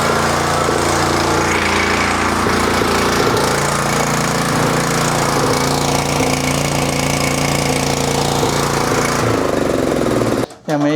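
A generator used to power welding runs at a steady, loud drone for about ten seconds, a dense rumbling engine roar that briefly cuts out just before the end.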